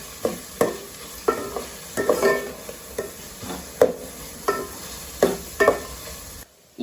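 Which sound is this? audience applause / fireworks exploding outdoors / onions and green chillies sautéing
onions and green chillies sautéing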